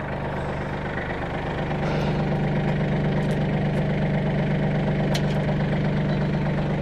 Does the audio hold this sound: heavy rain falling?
no